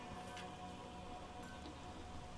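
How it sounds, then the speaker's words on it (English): Steady rain falls in The Witcher 3: Wild Hunt, a constant soft wash of drops with no voices over it. "There's no point standing here in the rain."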